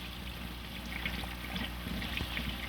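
Water rushing steadily through a bell siphon in a hydroponic grow bed, a continuous trickling gurgle at even, moderate loudness with no pauses.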